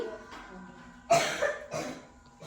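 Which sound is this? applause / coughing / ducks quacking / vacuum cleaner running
coughing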